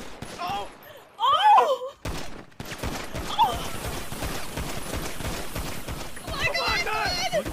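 Rapid gunfire in Grand Theft Auto roleplay rattles as dense, continuous bursts of shots at close range, with people talking and shouting over it.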